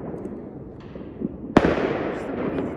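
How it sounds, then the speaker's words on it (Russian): Outdoor New Year fireworks on a snowy winter night: a sharp, loud bang bursts over steady background noise, followed by a lingering crackling rumble. A fainter pop comes just before it. "Салют."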